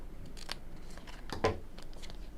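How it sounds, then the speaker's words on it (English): Scissors snip through the edge of a piece of paper card during a papercraft project, two or three crisp close cuts over a quiet room background with no talking. "And then we'll just cut off the edge there."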